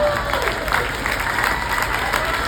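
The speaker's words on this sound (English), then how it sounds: "You can clap now." Applause from a comedy club audience after an impressions routine, a short burst of steady clapping with a hint of crowd cheering.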